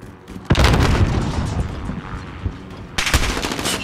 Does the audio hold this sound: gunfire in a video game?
yes